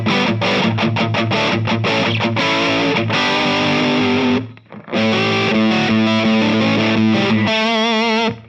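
Electric guitar through an old Japanese Boss DS-2 distortion pedal with reverb from an Alesis Microverb III, loud saturated riffs and sustained chords with a short pause midway, no talking.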